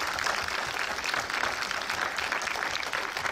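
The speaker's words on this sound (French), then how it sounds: "Nous aussi, on applaudit Maud Becker, s'il vous plaît." Steady audience applause at a French preview screening, a dense wash of many hands clapping together, fairly loud and unbroken throughout with no voices on top.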